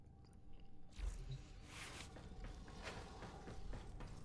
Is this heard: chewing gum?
yes